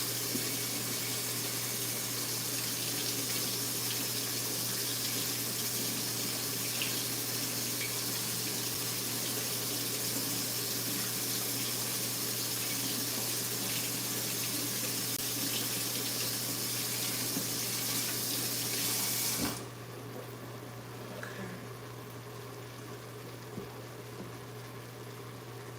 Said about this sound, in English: So I'm gonna rinse off my veggies.